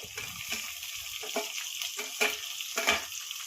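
Tomatoes hit hot oil in a frying pan for a Marathi-style dal palak, giving a soft steady sizzle broken by several stirring scrapes and clatters at close range.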